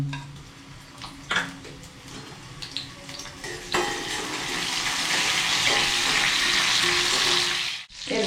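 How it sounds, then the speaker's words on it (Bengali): Crushed garlic, cumin seeds, a bay leaf and a dried chilli hit hot oil in a home kitchen and crackle faintly at first, then burst into a loud, steady sizzle that continues for several seconds before a brief dip. "আমি রসুন একটু থেতো করে রেখেছি জিরে কিছুটা একটা তেজপাতা একটা শুকনো লঙ্কা এই তেলের মধ্যে দিয়ে দিলাম"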